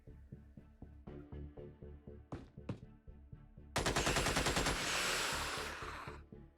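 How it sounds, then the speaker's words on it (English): Gunfire in Xenonauts: steady rhythmic shots lead into a loud, dense burst of rapid automatic fire that rings out and fades. "Yeah, I'm shooting. I'm definitely shooting."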